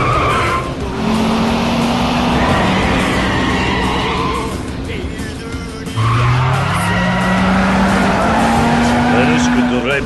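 Race car in Yakuza 5 roars at speed with screeching tires, engine tone climbing and dropping through gear shifts, loud and continuous, with a voice talking over parts of it.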